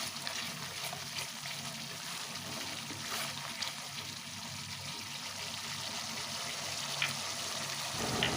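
Rinse water from a mixer jar poured into spice paste frying in a pan for vegetarian stuffed Kashmiri aloo dum, a steady sizzle and gentle liquid trickle at moderate volume, with no talking.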